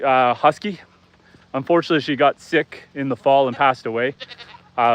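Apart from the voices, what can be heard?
No everyday noises stand out.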